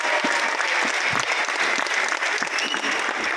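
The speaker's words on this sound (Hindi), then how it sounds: "मैं चाहूंगा जोरदार तालियों से स्वागत करें" Loud, dense applause from a large audience at a Tiens International business event, steady and continuous throughout with no break in the clapping.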